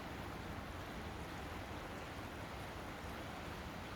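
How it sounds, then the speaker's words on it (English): Little River rushes over rapids in a steady, dense roar of water that holds evenly from start to finish, loud and close, with no voices. "The water elementals are soothing us with the sound of Little River going over the rapids."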